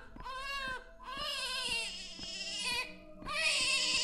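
A baby cries in the video game Joana's Life, three drawn-out, wavering wails that sound like a bleating sheep or goat, with short pauses between them and no talk over them.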